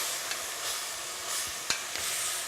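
Vodka hitting a hot pan of vegetables for a soup, a steady close sizzle and hiss with light stirring scrapes and a few small clicks from a utensil.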